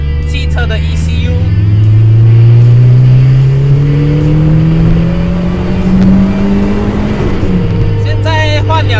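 A car fitted with a supercharged 4AGZE engine accelerates and revs through the gears, its engine note rising in long sweeps and dropping at each shift, loud and close from inside the cabin.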